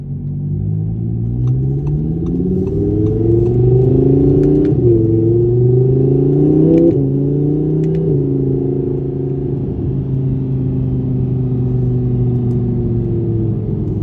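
A 2017 Audi R8 V10 Plus engine drones loud and steady from the cabin, rising in pitch as it accelerates through several gear changes, with no talk over it.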